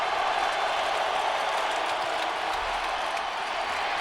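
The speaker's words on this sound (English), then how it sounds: "Crowd is vocal here." Football stadium crowd at an NFL game between the Seahawks and Colts, a continuous loud roar of cheering voices that stays even and sustained throughout.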